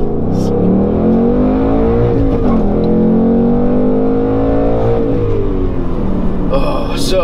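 Ford Mustang Bullitt V8 engine revving while driving, loud and close, with pitch sweeping up and down through the gears in a continuous roar.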